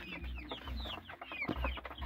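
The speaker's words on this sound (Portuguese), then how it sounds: "tô chegando aqui, ó, junto das minhas galinhas. Galinha caipira." Free-range chickens cluck softly in a farmyard, with repeated short, quiet clucks and calls.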